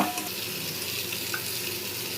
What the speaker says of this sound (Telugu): పచ్చివాసన పోయే వరకు వేయించుకుందాము.